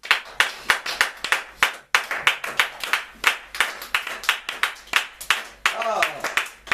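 A church congregation claps in a steady rhythmic beat for several seconds, voices acclaiming God mixed in beneath the sharp hand claps.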